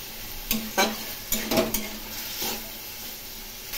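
Pointed gourds sautéing in spice paste for a small-fish curry, a steady low sizzle broken by several scraping stirs of a spatula against the pan, close and clear with no voices.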